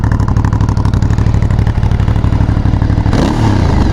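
An Aprilia Shiver 900 motorcycle fitted with an engine belly pan revs hard and close, its throbbing engine note pulsing steadily before it drops slightly near the end.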